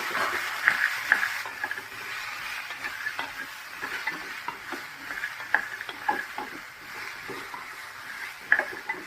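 Peanuts roasting in a dry pan are stirred continuously, producing a steady rattling, scraping shuffle with occasional sharper clicks, moderately close and without any voices.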